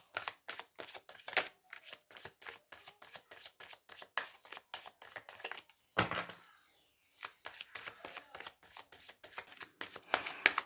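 Tarot cards are shuffled in quick, crisp riffles and taps, close and clear, repeating in steady bursts with a short pause and one louder slap midway.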